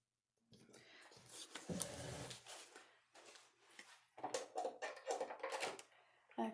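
Scissors cutting paper close to the mic for a handmade penguin Christmas card, a series of crisp snips and rustles that pause briefly, with the paper shuffled between cuts and no speech.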